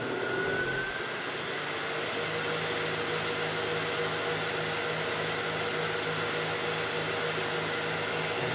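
An air compressor runs in a workshop, a loud, steady, unbroken roar with a droning hum underneath, filling the whole stretch without talk.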